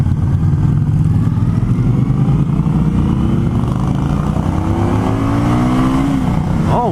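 A 2020 Indian Scout motorcycle engine runs loud and close with a steady, throaty rumble that climbs in pitch as it revs toward the end.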